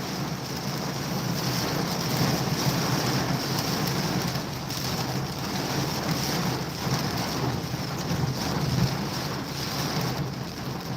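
Heavy monsoon rain pours down in a steady, dense hiss that stays loud and unbroken throughout, with no voices over it.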